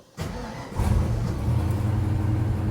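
A Ford Mustang engine cranks and catches after a short pause, settling into a steady, loud, close idle rumble in cold weather.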